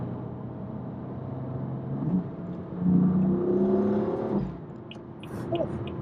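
A BMW M4 engine revs up from a light tap on the gas pedal, the tone climbing and swelling then easing off, heard from inside the car.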